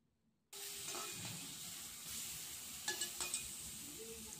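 Seasonal vegetables sizzle loudly in a hot pan as it is uncovered, with a steady hiss and a few quick scraping clatters as the pieces are turned over.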